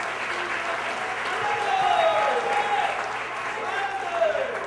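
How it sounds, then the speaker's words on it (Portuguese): Congregation applause during a church sermon, a broad wash of clapping sustained through the clip while a voice rises and falls over it, with cheering tones mixed in. "Uma salva de palmas para Jesus."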